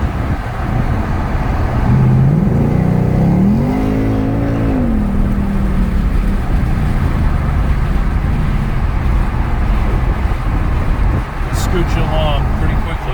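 A Ford Mustang GT accelerates hard, its engine rising in a loud, climbing rev with shifting pitch over road and wind noise inside the car, while a person talks during the drive.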